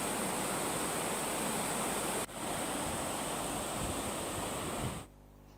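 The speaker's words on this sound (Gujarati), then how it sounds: "નયન રમણીય ધોધ વહેતા થતા અદભુત નજારો જોવા મળ્યો હતો" A waterfall at Osam hill near Dhoraji, set among green monsoon hills, gives off a loud, steady broadband roar of rushing water. The roar dips briefly partway through and then cuts off near the end.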